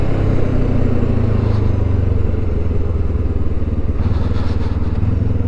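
A 2024 Kawasaki Ninja 7 Hybrid motorcycle pulls away from a stop, its engine humming at a steady, close-up drone under rushing road and wind noise.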